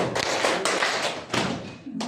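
Group claps in a counted one-two-three pattern at a school gathering, sharp hand taps in short clustered bursts, fairly close and moderately loud, with no talking over them.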